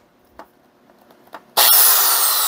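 A Bosch PSB 550 RE drill switched to hammer mode after a carbon brush replacement: faint taps and clicks, then a sudden loud, harsh, continuous motor roar with a gritty rattling texture.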